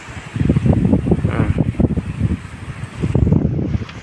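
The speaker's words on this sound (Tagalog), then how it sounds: "Ang lakas ng hangin dito." Strong gusting wind after a typhoon buffets the microphone in loud, rumbling waves, easing briefly in the middle before surging again.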